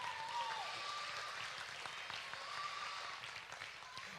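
Applause at a county fair swine show after market barrow winners are announced, heard as a faint, steady wash of distant clapping with a few brief tones and a low murmur beneath.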